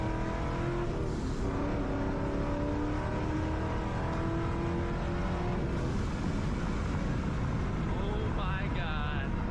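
Car with a 4.6 liter 2-valve engine pulling hard in second gear, a steady loud engine roar climbing in pitch over several seconds, with the sound of the run heard from inside the car.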